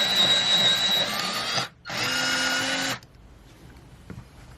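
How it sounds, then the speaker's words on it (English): An electric pencil sharpener grinds a coloured pencil in two loud, close bursts split by a brief pause, then cuts off, leaving quiet room tone. "Let me just sharpen this one as well,"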